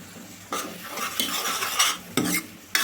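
Tomato paste stirred and fried in oil, with loud close bursts of scraping and clattering against the pan over a low sizzle, in several uneven strokes.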